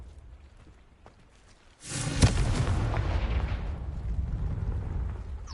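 After a quiet lead-in, a Confringo spell explosion in a video game hits with a sudden heavy boom and a sharp crack, followed by a sustained rumbling roar that stays loud to the end.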